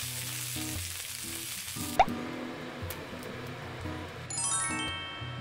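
Fish sizzling on a grill in a Korean omakase restaurant kitchen in Jongno, Seoul: a steady, crackling hiss of hot fat with scattered drips and pops, including one sharp pop, and no talk.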